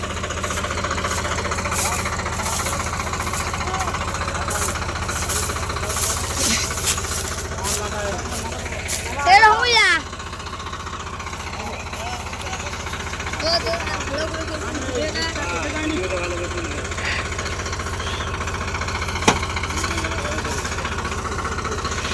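A Sonalika 47Rx tractor pulling a fully loaded trolley works through deep mud with a steady, loud, rough diesel rumble and occasional knocking bursts. Voices are heard over the engine.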